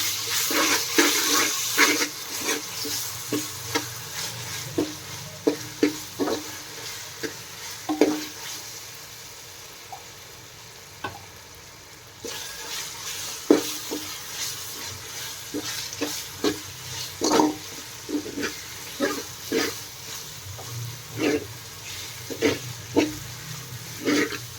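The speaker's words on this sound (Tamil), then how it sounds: "இப்போ இஞ்சி பூண்டு சேர்த்துக்கலாம்." Ginger and garlic paste sizzles in a pan of well-sautéed onions for vegetable brinji rice, a steady frying hiss broken by frequent scraping and clinking stirs of the spatula.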